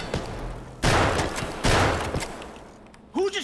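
Video game gunfire in a dark room, with two sharp, loud bursts about a second apart that trail off, then a third burst at the end. A voice cries out between them.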